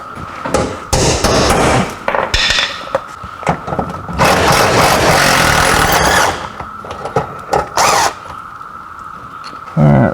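Loud, close metallic hammer blows on a metal bracket of a Dutchmen pop-up camper during a cable repair land in irregular bursts, some rapid clusters and some single strikes, with short pauses and faint scraping between.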